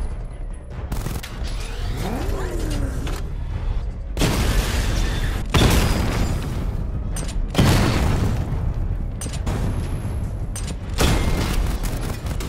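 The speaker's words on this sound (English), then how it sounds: "Destroy targets to charge up weapon energy and activate missile barrage" Batmobile missile barrage in Batman: Arkham Knight, a rapid string of loud booming explosions and gunfire-like bursts, dense and overlapping, rising in waves with brief pauses between volleys.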